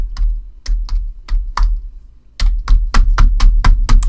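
Typing on a computer keyboard, close and crisp: a slow run of separate keystrokes, a short pause, then a quicker burst of steady taps, with no voices.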